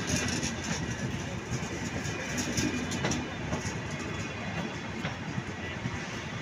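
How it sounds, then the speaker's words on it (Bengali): A train pulling into the platform at Gendaria railway station junction, a steady near rumble with rail clatter and wheel clicks holding throughout, and a faint voice underneath. "ট্রেনটি এখানে থামবে"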